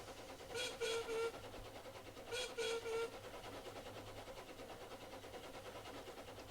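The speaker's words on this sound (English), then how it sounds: "Such an unusual whistle." A miniature railway train whistle sounds twice, each a short double toot, faint and distant over a steady rhythmic rumble and clatter of the running train.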